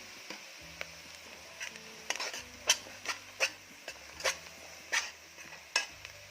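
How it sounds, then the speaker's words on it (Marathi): Onion frying with Kolhapuri onion garlic masala in a pan for a raw jackfruit curry, a faint low sizzle broken by sharp spoon taps and scrapes against the pan at irregular intervals. "आणि यामध्ये मी टाकत आहे कोल्हापुरी कांदा लसूण चटणी, म्हणजे कोल्हापुरी कांदा लसूण मसाला."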